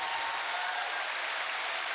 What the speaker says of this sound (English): 皆さんの拍手でね